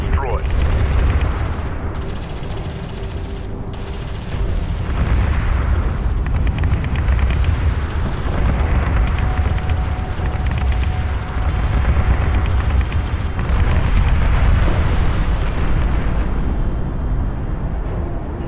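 Gunfire and explosions from a battle in Homeworld: Deserts of Kharak, dense and loud, with rolling booms and bursts of fire continuing without pause, while a voice speaks over the din.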